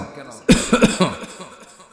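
A single sharp cough bursts out during a sermon, followed by a few weaker throaty coughs that fade away.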